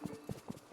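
Horses' hooves clip-clopping as they walk in the ranch game Wishbloosom Ranch, heard as a quick, uneven series of soft, hollow knocks, fairly quiet and close, with no talk.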